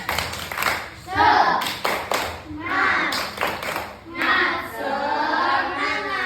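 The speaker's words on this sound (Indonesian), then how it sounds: "Coba tepuk semangat." Children clap in a quick rhythmic spirit-clap pattern together with chanting voices, several hands striking in bursts over a lively, close group.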